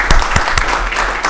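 Applause at a council meeting: a room of people clapping steadily, with dense, close, sharp claps in an even patter throughout.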